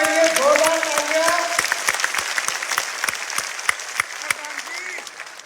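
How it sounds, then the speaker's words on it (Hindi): At a village public rally, clapping spreads through the crowd while a voice sustains tones at the start, then sharp individual claps keep landing as the applause thins out. "प्रधान जी के लिए जोरदार तालियां।"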